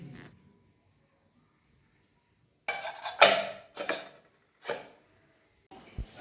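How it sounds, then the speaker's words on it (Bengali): Pots and dishes being washed after cooking mutton, with loud clattering bursts of metal utensils and splashing water, broken by quiet pauses. "রান্না করতে করতে অনেকগুলো বাসন জড়ো হয়ে গেছিল সেগুলোকে ধুয়ে নিলাম"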